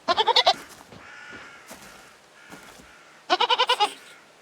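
Two sharp, vibrating goat bleats ring out in the game Reka, one at the very start and another about three seconds later, with quiet rustling between them.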